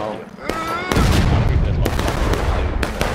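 Musket gunfire in the Civil War-era multiplayer game War of Rights: repeated sharp cracks and booms stacked into a dense, loud battle din, with voices talking over the shots.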